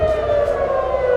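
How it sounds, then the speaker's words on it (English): An air raid siren sounds across Israel, a loud sustained wailing tone holding steady throughout the short stretch, with no voices. "air raid sirens sounded across Israel"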